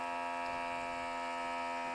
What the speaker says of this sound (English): Now we're going to turn the vacuum on.